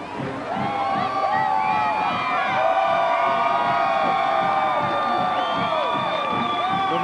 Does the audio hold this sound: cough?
no